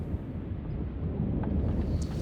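Early-morning thunder rolls as a continuous deep rumble, loud and low, with some wind buffeting mixed in and no clear single crack.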